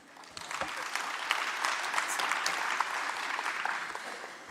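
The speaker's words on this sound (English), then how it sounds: "Another round of applause for the MEC." At a national transport conference, an audience gives a round of applause, a steady wash of many hands clapping that holds evenly for several seconds.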